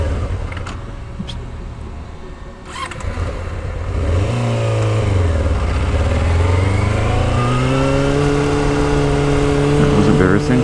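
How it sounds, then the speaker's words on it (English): A motorcycle engine idles and pulls at low RPM on a road after winter. The loud, close exhaust drone rises and falls in pitch as the throttle changes. "At low RPMs, it almost sounds like an Aprilia."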